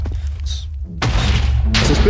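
Mob TNT from the Mega TNT mod blowing up in Minecraft, a loud booming blast followed by further rumbling explosions stacking over a steady low roar, with no voice over it.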